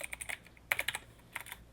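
Quick bursts of keystrokes on a computer keyboard while coding, close and quiet, in short uneven clusters.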